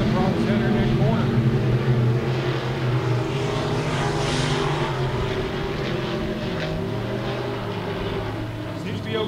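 IMCA sport mod race cars racing at RPM Speedway, a steady roar of several engines droning together throughout, with an announcer talking over the noise.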